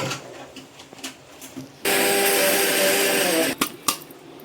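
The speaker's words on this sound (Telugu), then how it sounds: "ఇంకా నేను ఇక్కడ మిక్సీ జార్లో ఇది పడుతున్నాను" Grated coconut is ground in a mixer grinder (mixie) jar, one loud whirring burst of under two seconds, with quiet knocks and handling before and after.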